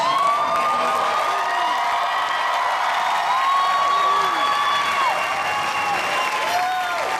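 A large audience at a Comic Con panel for the TV show Chuck gives sustained, dense applause that fills the hall, with cheers and whoops rising over the steady clapping throughout.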